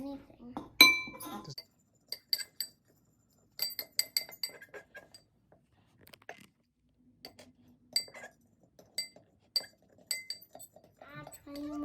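Spoon stirring oobleck in a glass at home, producing bright intermittent clinks in irregular clusters, close and fairly faint, with talking heard between the strokes.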